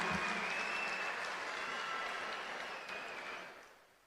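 Sustained applause from an audience of women at a political welfare-scheme event in Tamil Nadu, a dense steady clapping wash that fades out toward the end with no talk over it.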